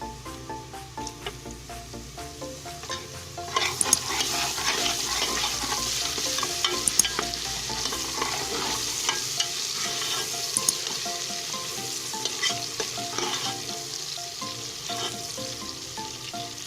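Garlic and browned onions frying in a pan for chicken pulao, a steady loud sizzle and crackle throughout with occasional stirring scrapes and no talking.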